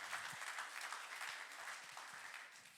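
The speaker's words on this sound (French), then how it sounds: "J'aimerais entendre un grand applaudissement à ceux qui combattent pour cette église." Steady applause from a church congregation during a worship celebration, a dense wash of clapping that holds for about three seconds at moderate, slightly distant level.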